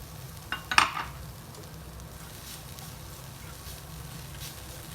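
Mashed paneer cooking in a pan on the stove gives a faint, steady sizzle, with a brief clatter of stirring near the start and no talking.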